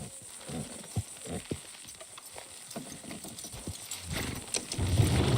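Horse hooves clip-clop in Red Dead Redemption 2 as the animals pull a load along a trail, a steady run of close, uneven clops with faint background rumble and no voices.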